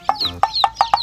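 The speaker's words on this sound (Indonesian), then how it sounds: "Wow, ada ayam rainbow." Colourful dyed rainbow chicks call out loudly and close, five quick bright peeping cheeps in a rapid uneven series within a second, with no talk.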